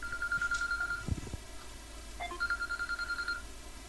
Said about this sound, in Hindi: सर 1 मिनट, मेरा फोन आ रहा है अर्जेंट